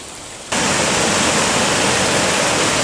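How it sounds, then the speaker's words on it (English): A rain-fed waterfall at Wairere Falls in the Kaimai Range pours during a storm, a dense, roaring rush of water that cuts in abruptly and stays loud and constant, close by with no voices. "They're probably just a waterfall that only comes when it's raining, eh?"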